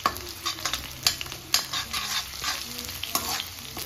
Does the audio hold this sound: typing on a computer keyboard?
no